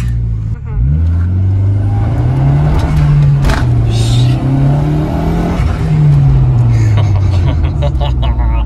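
A Honda Integra engine hums loudly from inside the car, rising and falling as it revs through gears while driving, with voices over it.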